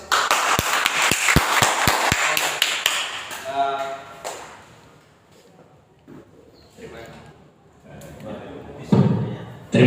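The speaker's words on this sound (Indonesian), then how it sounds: "Kita kasih aplaus." An audience at an Indonesian teacher-training presentation claps, a quick run of sharp, evenly spaced claps up close, then gives way to a voice talking over a quieter room.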